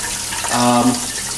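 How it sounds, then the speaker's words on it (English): Tap water runs steadily into a kitchen sink, a close, continuous splashing flow. "the tap water here is running 55 degrees"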